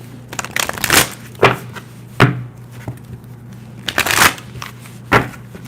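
Tarot cards being shuffled in uneven bursts of riffling and slapping, several separate handfuls with short pauses between, close up and with no talking.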